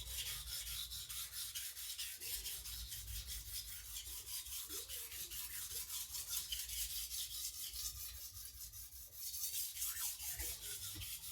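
Steel knife blade rasping back and forth on a water-soaked Takayuki Shibata whetstone, a continuous close scraping of rapid even strokes with a brief pause and then renewed rubbing near the end.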